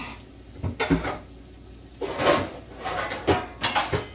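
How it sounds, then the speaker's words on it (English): Metal pots and pans clatter and clank in a kitchen as a Dollar Tree pan is pulled out of a cabinet and handled, with drawer or cupboard knocks among several close, uneven bursts and no talking. "Ooh, I need a pan."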